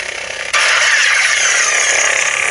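A harsh, buzzing lightsaber hum from a Saber Forge cyborg sound font kicks in abruptly after a quieter start, then holds steady and loud with a crackly, unstable texture.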